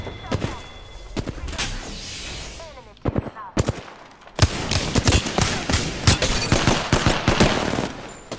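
Gunfire in the Apex Legends video game, rapid close bursts and sharp single shots that grow dense and sustained in the second half, with a voice talking over the shooting.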